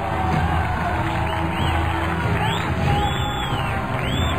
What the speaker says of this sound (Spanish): Quiero que le demos un aplauso enorme